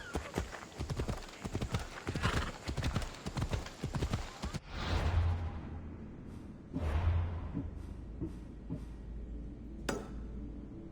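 Horse hooves clip-clop at a gallop in the ancient Greek world of the video game Assassin's Creed Odyssey, a dense rapid beat that stops abruptly, followed by a few snorts and scattered later hoof and tack sounds.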